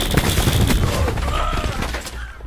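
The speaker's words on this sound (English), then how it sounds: "Cluster grenade going out." Explosions from cluster grenades mixed with rapid gunfire in a video game, a loud, dense, continuous barrage of bursts and booms throughout.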